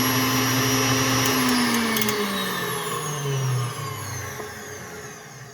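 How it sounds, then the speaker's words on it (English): KitchenAid tilt-head stand mixer running at high speed, a steady loud motor whine that drops in pitch as it slows, heard alone with no talking. "To turn it on, you just flip this right here, and it's a pretty fast little mixer."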